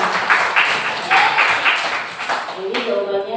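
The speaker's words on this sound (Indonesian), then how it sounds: "Tepuk tangan untuk Sulamila." Short burst of classroom applause, a cluster of hand claps in quick succession from a group of students, with a voice speaking over the end.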